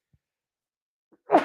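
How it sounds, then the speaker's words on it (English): One sneeze bursts out near the end after a stretch of near silence, short and close. "but I need to sneeze."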